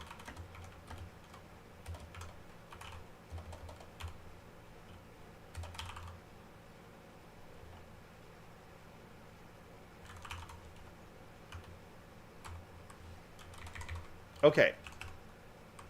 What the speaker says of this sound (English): I'm going to type it out before I start talking about it.